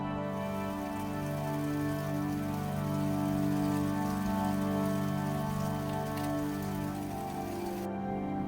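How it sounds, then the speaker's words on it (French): Steady rain patters on a hard surface nearby, an even, dense hiss of drops that continues without a break and with no talking. "Nous attendons que la pluie se calme"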